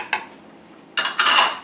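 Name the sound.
stirring prosciutto paprika sauce in a pan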